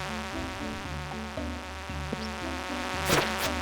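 A buzzing bee creature in the Stardew Valley video game drones steadily in the foreground, layered over looping game music with a louder burst near the end.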